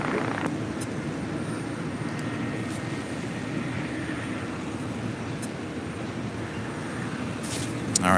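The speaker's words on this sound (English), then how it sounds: "we got the China Cargo 777 heading to Shanghai, flight 224, now rolling down at 25 left" A China Cargo Boeing 777 bound for Shanghai rolling for takeoff on runway 25 left at LAX, a steady broad distant engine roar holding constant throughout, with a voice talking over it.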